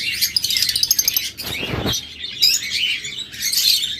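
Lovebirds and budgerigars kept for sale chatter in a dense, continuous chorus of high chirps and tweets, close by, with a brief harsh rustle in the middle.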